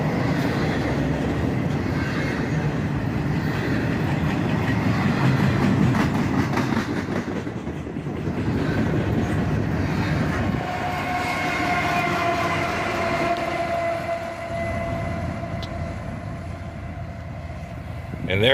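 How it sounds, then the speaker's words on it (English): A freight train with a DPU locomotive at its end rumbles and clatters past close by, with wheels clicking over rail joints, and the pitch and tone shift as the trailing locomotive goes by. "And here comes the DPU at the end of the train."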